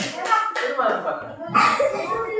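A classroom of pupils claps on the teacher's command, sharp slap-like hand claps in a few bursts amid chatter and soft laughter.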